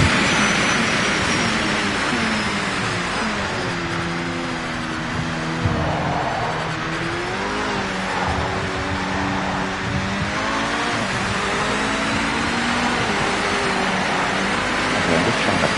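A race car engine in the video game Project Motor Racing roars steadily, revving and shifting pitch as it drives, with rushing wind noise over it.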